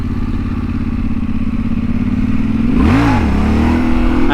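A Yamaha Tenere 700 motorcycle during wheelie practice, its engine droning steadily up close, then rising in a sharp rev that falls back again.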